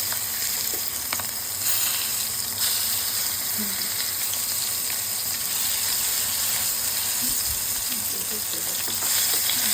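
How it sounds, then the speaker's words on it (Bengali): Fish frying in hot oil in a home kitchen, a steady dense sizzle and crackle close by, with occasional small pops and light clatter, no talking. "সুন্দরভাবে এপাশ ওপাশ দুটো মাছটা ভেজে দিব"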